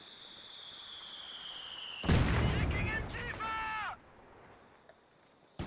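A single mortar round in Company of Heroes 2 lands with a loud, close blast, followed by a short rumbling tail and faint game tones, then a quieter backdrop.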